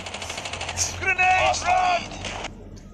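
Rapid bursts of Call of Duty shotgun gunfire crackle over a steady low hum, with a voice speaking briefly in the middle before the shots trail off.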